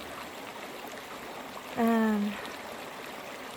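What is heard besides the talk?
flowing water of a stream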